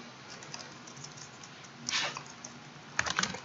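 Quiet typing on a computer keyboard: scattered light key clicks, then two short clustered bursts of faster tapping, heard close with no talking.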